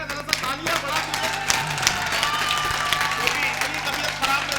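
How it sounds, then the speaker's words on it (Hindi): An audience at an outdoor Ram Leela Mela poetry recital in India claps in a continuous, moderately loud patter with scattered sharp claps over a low hum, and voices can be heard amid it. "जरा सा तालियां बढ़ा दीजिए"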